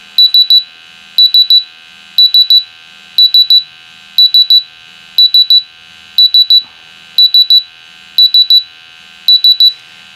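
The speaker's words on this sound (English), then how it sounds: "So the pump alarm on the instrument." A pump alarm on a wirelessly monitored instrument beeps loudly and steadily in repeating bursts of three or four sharp electronic tones, about once a second, with nothing else audible.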